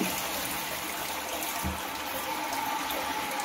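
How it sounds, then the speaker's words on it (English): Running water from a toilet after a fill valve repair, with the tank flushing and refilling in a steady broadband rush that continues throughout without pause. "Fill the water tank again couple of times and flush it out."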